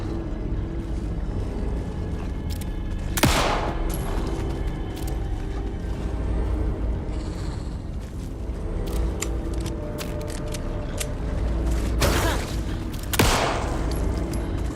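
Gunshots in the survival horror game Alan Wake 2, a few sharp bursts at about 3, 12 and 13 seconds standing out over a steady rumbling ambient game backdrop.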